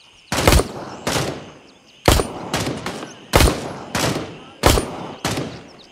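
Gunfire in the tactical shooter Gray Zone Warfare, loud close bursts of a few rapid shots each, separated by short gaps across the whole stretch, with faint talk underneath.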